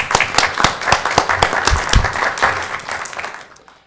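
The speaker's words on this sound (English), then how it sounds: "Let's give her a round of applause." A round of applause at a city council meeting in North Augusta: a small room of distinct, close handclaps, fairly loud at first and thinning out toward the end.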